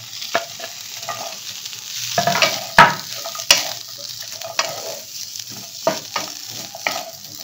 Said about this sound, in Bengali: এটাও একটু মাখনের মধ্যে ভেজে নিই